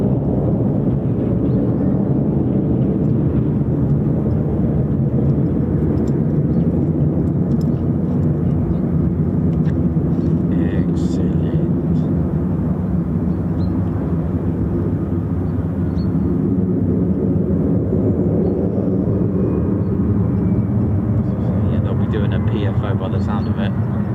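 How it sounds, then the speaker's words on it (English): Two F-35 fighter jets circle high overhead at RAF Lakenheath, a continuous broad distant jet roar that swells and fades slightly, steady and loud throughout. "the two F-35s that just blew and strafed my van are now at high key"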